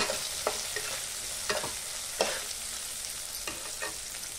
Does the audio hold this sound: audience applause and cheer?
no